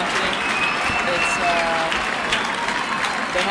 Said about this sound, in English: And the home crowd goes crazy here in Coimbra.